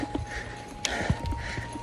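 A group of horses walking up a mountain hiking trail in Wyoming's Wind River Range, with a few scattered hoof clip-clops on rocky ground amid outdoor background noise.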